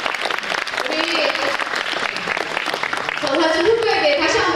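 A student council election at Daechang Middle School in 2023: applause for a losing candidate comes from a crowd of students in a school hall. Steady clapping is mixed with voices and grows louder near the end.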